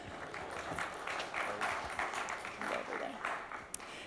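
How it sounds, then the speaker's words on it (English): An audience at a startup pitch award event applauds to welcome a judge onto the stage, a continuous patter of many hands clapping, quiet and somewhat distant, with one sharper clap near the end. "Give him a warm round of applause"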